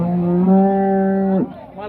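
A cow at a cattle market moos loudly and close by, one long sustained low call that breaks off abruptly, followed by a brief softer tail.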